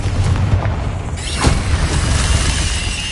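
Bombarda blasting spell cast in Hogwarts Legacy on PS5, a heavy booming burst with crumbling, shattering debris and a rising whoosh over low rumble, loud and close.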